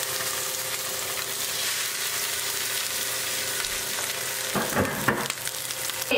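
Salmon patties made from wild Alaskan king salmon fry in a cast iron skillet with a steady, dense sizzle. The crackle runs unbroken at an even level, and a few brief clatters near the end sound like the patties being turned.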